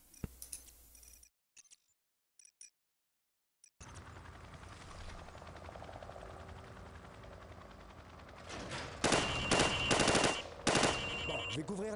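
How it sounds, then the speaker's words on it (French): Gunfire hits targets in Call of Duty 4 Modern Warfare, starting with a few scattered shots around gaps of silence, then rapid rattling bursts over a steady mechanical hum that grow louder and denser toward the end. "Maintenant, tire sur les cibles en utilisant la visée normale."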